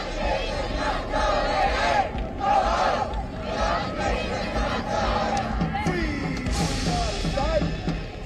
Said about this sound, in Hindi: भीड़ ने फिलिस्तीन के समर्थन में नारेबाजी की।